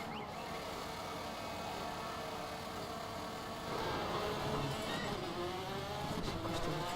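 Rally car engine in the video game DIRT 3 on a countryside course, a steady droning rev that rises in pitch and grows louder partway through, with faint tire noise.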